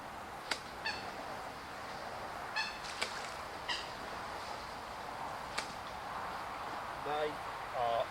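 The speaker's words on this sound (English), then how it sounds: "And of course the seagulls have started coming in." Seagulls call at a water park where people are fishing for carp, a few sharp squawks and a short run of calls over steady outdoor background noise with a voice talking now and then.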